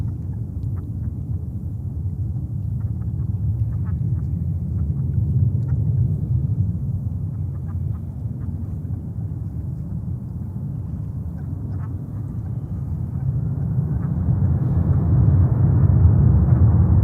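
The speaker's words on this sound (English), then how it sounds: "So Emirates is coming over with their mighty 380." An Emirates Airbus A380 jet takes off at JFK, heard as a steady deep rumble that swells louder toward the end, with no talking over it.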